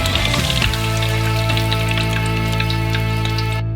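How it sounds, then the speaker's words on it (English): Onion rings deep-frying in hot oil, a steady close bubbling hiss with faint crackles that holds loud and even throughout, with no talking. "When it's warmed up, fry the onion rings."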